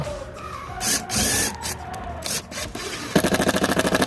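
Cordless drill driving screws down into roof curb mounts, a loud whirring burst near the end with a steady rapid ratcheting pulse, preceded by scraping and handling noises on the roof.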